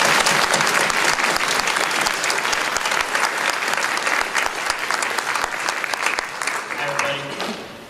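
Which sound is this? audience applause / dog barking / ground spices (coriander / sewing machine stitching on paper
audience applause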